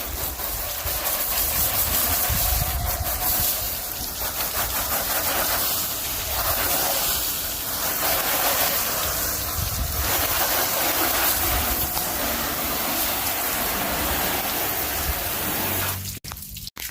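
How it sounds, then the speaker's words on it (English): Water sprayed over car paint to rinse off iron fallout remover: a steady, loud rushing hiss that holds for most of the stretch and breaks into a few sharp clatters at the very end. "Definitely do a thorough rinse."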